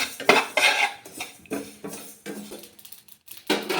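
Sesame seeds roast in a pan for a village-style drumstick pickle, with repeated scraping and clinking of a metal spoon against the pan in uneven strokes and a faint sizzle underneath.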